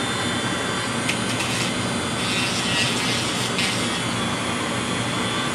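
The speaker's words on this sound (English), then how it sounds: "So I will just take a quick little Dremel here." Dremel rotary tool grinding a burr off inlay work on a guitar, giving a steady high whining buzz that holds at even loudness throughout.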